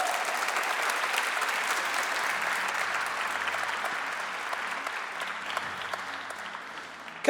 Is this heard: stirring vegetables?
no